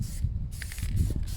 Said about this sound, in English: It's hard to spray though, hang on.